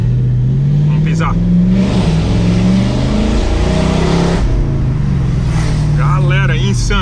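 A 406-horsepower V8 car with 39,000 km on it revs and pulls hard under acceleration, a loud, steady low engine roar held for several seconds, with excited voices talking over it.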